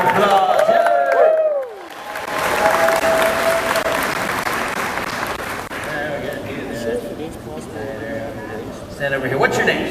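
Crowd at a cosplay halftime show breaking into applause for a kid called up on stage, broad clapping with some cheering under a busy hall; a voice speaks over the noise near the start.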